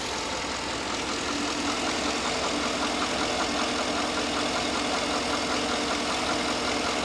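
A car engine idles steadily and close by, a continuous even rumble with a faint rhythmic knock running through it and no voices.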